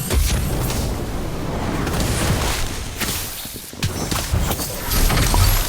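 The Incendio fire spell in the mobile game Harry Potter Magic Awakened bursts out as loud, rumbling booms and whooshing blasts, with several thudding impacts and a steady roar of game effects.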